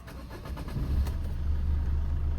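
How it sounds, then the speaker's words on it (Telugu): A 2013 Maruti Suzuki SX4 VDI diesel car engine cranks and catches, settling into a steady low rumble that continues to the end. "సింగిల్ సెల్ఫ్లో వెహికల్ స్టార్ట్ అవుతుంది."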